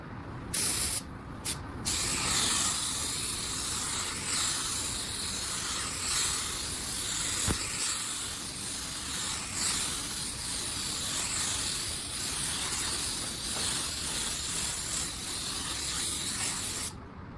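A spray gun lays clearcoat onto a car panel in a garage, a steady close hiss of atomized spray running almost continuously with slight pulses and brief breaks near the start.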